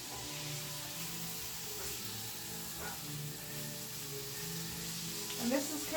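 Garlic sizzles gently in a pan over low heat, a soft steady hiss with faint crackles and occasional stirring clinks, quiet and close, while a person talks over it.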